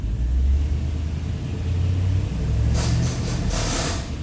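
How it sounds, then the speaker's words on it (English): A Chevy Silverado engine with a failing AC compressor rumbles close by at idle, then swells as the revs rise, with rattling, clattering bursts in the final second and a half. "I'm going to bring the RPM up and you can hopefully hear this"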